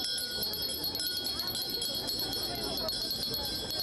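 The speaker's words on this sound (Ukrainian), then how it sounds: "Свої вимоги до влади педагоги підсилювали шкільним дзвоником" A school bell rings continuously with a loud, steady metallic trill over the murmur of a crowd at a teachers' protest in Lviv, Ukraine.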